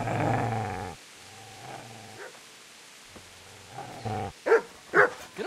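Dog in Kingdom Come: Deliverance growling low and steadily, then breaking into several sharp, close barks and yelps in quick succession.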